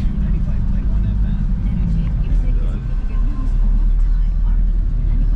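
Steady road traffic in Dolores, City of San Fernando, near the Dolores Memorial Park, sets a heavy low rumble of passing cars and engines, with people talking over it.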